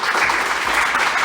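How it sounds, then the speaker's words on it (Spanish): An energetic congregation at a church service claps loudly in a thick, continuous burst that sustains evenly through the short moment. "Dale un aplauso fuerte a Jesús."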